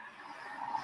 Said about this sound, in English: Big old loud motorcycle going by.